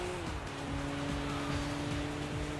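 A BMW M3 in the video game Sega GT 2002 holds a steady, throaty four-cylinder-like engine drone with tire squeal, sustained and fairly quiet across the clip.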